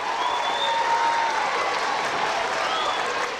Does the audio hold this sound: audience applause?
yes